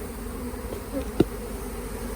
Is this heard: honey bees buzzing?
yes